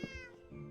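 A single short meow from a Minecraft cat, close and distinct, heard alone without any talking.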